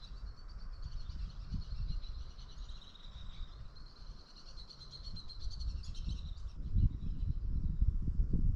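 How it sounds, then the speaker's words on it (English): Birds chirp and trill continuously from the trees at a campsite near Devil's Tower, a dense, high twittering chorus over a low outdoor rumble that grows louder toward the end. "So many birds."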